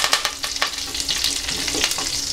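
Curry leaves crackle and sizzle in hot oil with mustard seeds and cumin, tempering for a Tamil carrot poriyal, with sharp pops over a close, busy frying hiss.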